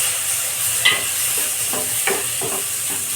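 Chopped tomatoes go into a pan of roasted besan (gram flour) for lasooni palak, raising a steady close frying hiss with a few soft scraping stirs and light pops.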